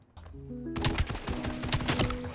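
Gunfire from the video game Black Ops 7 crackles in rapid bursts of automatic shots over game tones, moderately loud and fairly dense, with no talk.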